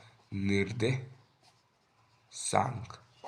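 Pen scratching on paper while coordinates are written out for a class 9 coordinate geometry problem, faint and partly masked by a voice explaining the answer.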